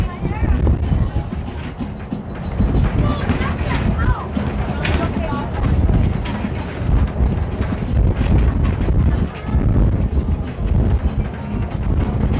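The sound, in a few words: wind blowing into microphone on moving trolley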